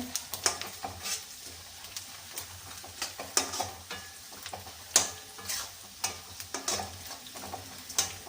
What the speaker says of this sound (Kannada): ಚೆನ್ನಾಗಿ ಫ್ರೈ ಆಗ್ತಾಯಿದೆ.